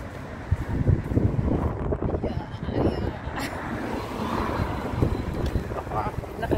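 Strong typhoon wind buffets the microphone outdoors in gusty, roaring bursts, rumbling low and uneven throughout, with a person talking briefly underneath.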